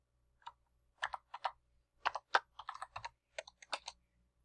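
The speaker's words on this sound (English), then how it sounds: "I'm going to press enter, the enter key on my keyboard" Quick keystrokes on a computer keyboard, including a press of the enter key, give about a dozen crisp, close clicks in uneven bursts with quiet gaps between them and no voices.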